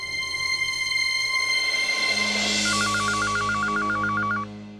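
A phone is dialled, giving a rapid, even run of short electronic beeps over a sustained tonal hum with no talk.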